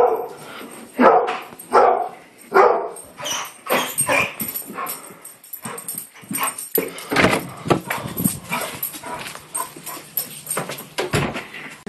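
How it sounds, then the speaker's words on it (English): A dog barks repeatedly nearby, loud irregular bursts of barks and yips mixed with whimpers, continuing throughout with some voices in the background. "he woke me up because my dog's barking"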